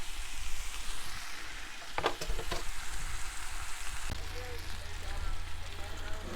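Pork loin steaks fry over high heat at a camp cookout, a loud continuous sizzle up close, with a brief clatter of stirring or turning partway through.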